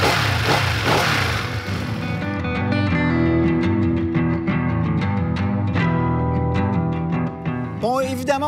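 A Ducati Streetfighter V2 955 cc twin-cylinder motorcycle engine, loud and close, with a strong rev burst at the start settling into a throbbing idle with repeated blips, and a short voice near the end.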